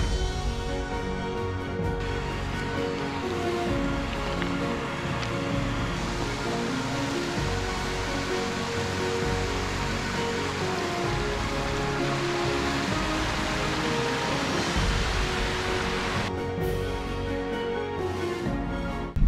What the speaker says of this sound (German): der Fluss begleitet mich noch ein kleines Stück